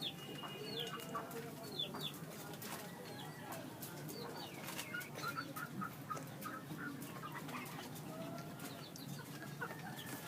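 A flock of pet pigeons coos and clucks at a loft, soft repeated calls scattered through the whole stretch over steady low background noise, with other birds chirping faintly around them.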